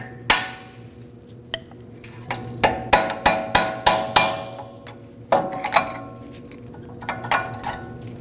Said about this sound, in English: Mine are quite stuck, so I'm using a pry bar and a hammer to tap them out of place.